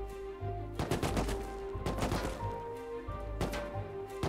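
AK rifles fire in the video game Rust in rapid automatic bursts, with two or three dense volleys of cracking shots and a steady game hum underneath.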